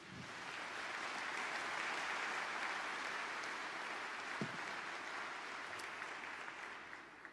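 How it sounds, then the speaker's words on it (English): Audience at an economic forum speech applauding, a broad, sustained wash of clapping from a large hall, steady and somewhat distant throughout. "Nobody asked them to clap and to applaud."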